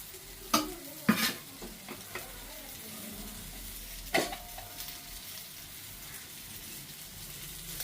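Drumstick (moringa) pieces being stirred with chilli powder in a pan, a few scraping clanks of the spoon against the pan over a faint steady sizzle, with no talking.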